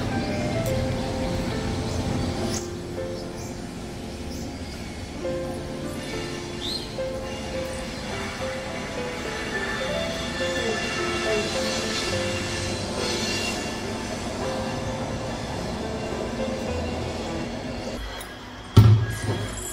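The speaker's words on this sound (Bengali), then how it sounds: "ট্রেন যাচ্ছে।" A train passes at a distance in a rural Bengali setting, a long steady rumble with rhythmic wheel clatter and faint squeals, ending with a brief louder knock near the end.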